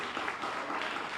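An audience at a Hall of Fame induction claps for athletic staff, a brief, soft, steady wash of applause heard from a distance.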